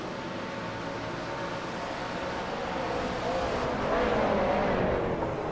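Race cars at the 24 Hours of Spa drone past with a steady, distant engine whine that swells louder toward the end, as if a car draws nearer.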